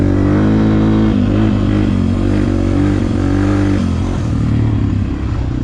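A Yamaha TTR 250 dirt bike rides over rocks, its engine droning loud and close with a rough, slightly wavering pitch and some rattling from the terrain, running continuously with no talking.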